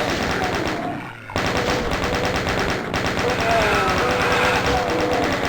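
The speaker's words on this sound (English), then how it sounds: "Chain gun massacre." The chain gun in the video game Doom fires in rapid, sustained bursts, loud and close, with a short break near the start and gunfire continuing densely to the end.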